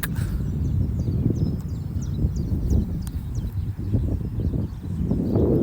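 Wind blows across the open grassland of Wanstead Flats in London, a constant, heavy low roar with small gusty swells. Faint bird chirps flicker high above it.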